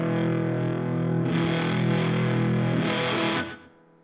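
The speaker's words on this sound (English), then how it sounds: "Let's try that twin tracker with like a really beefed up sound" A Supro Airwave amp's twin tracker effect with boost and gain turned up plays a thick, distorted doubled guitar chord that sustains loudly and swells before cutting off near the end.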